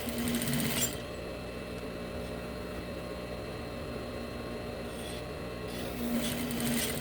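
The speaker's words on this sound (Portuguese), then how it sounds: "aí aqui vou dar outro pesponto no outro lado da emenda" A sewing machine topstitches the seam of a pair of jeans being widened at the waist, a steady mechanical whir running throughout, slightly louder bursts at the start and end, fairly quiet and without talk.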